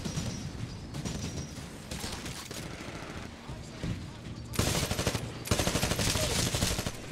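Rapid automatic gunfire in Titanfall, bursts of close, loud shots that build into heavier sustained volleys near the end, with a player speaking in between.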